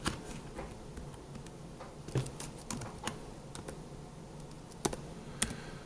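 Keys clatter on a computer keyboard, with quiet irregular bursts of typing and a few sharper keystrokes standing out, close but faint and with no speech.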